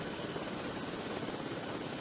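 Police helicopter flying near a harbour in Yahukimo, Papua, giving a close, loud, continuous rotor and engine drone that holds steady throughout with no speech.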